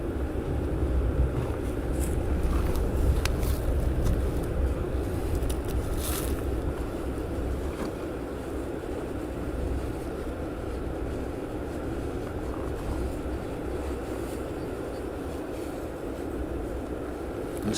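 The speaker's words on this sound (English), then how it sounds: "EasyJet on approach." An EasyJet airliner on approach to Amsterdam Schiphol Airport gives off a steady, broadband roar that holds level and continuous throughout, with no voices.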